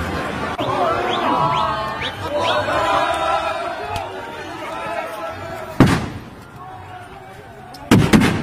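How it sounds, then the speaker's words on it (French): Tear gas grenades burst with two sharp, loud bangs amid a May Day street protest in Paris, the crowd shouting and chattering throughout before the blasts. "explosion de gaz lacrymogène"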